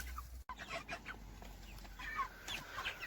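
Grown broiler chickens on a small farm cluck and chatter continuously nearby, several birds overlapping in short bursts with a brief bump partway through.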